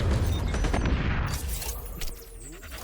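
An explosion in the shooter game XDefiant: a loud, dense burst with rumbling debris that fades over a couple of seconds into a quieter tail with scattered crackles.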